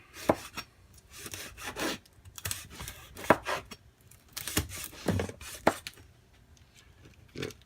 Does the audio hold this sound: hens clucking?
no